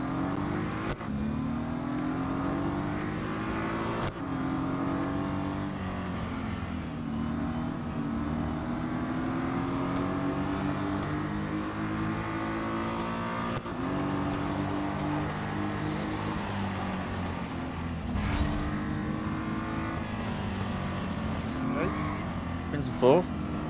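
Race cars scream around the Bridge Grand Prix circuit in the Real Racing 3 game during an eight-car elimination event, engines revving and shifting continuously and loudly while someone talks over them.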